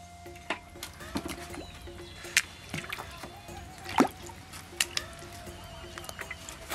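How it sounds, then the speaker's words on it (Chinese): Cow hooves are being blanched in a pot of water, with scattered drips, splashes and wooden knocks over a quiet background. There are sharper clunks near four seconds and at the very end. "牛蹄子下锅焯水"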